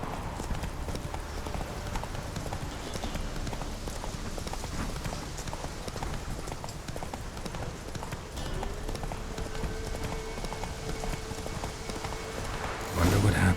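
Roach the horse trotting in The Witcher 3, a steady run of clip-clopping hoofbeats under a constant ambient bed, with a brief louder burst at the very end.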